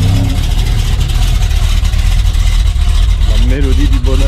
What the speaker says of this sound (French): Oh, une jolie Chevrolet Impala de 1973, je crois.